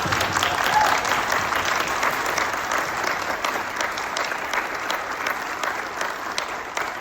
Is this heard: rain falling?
no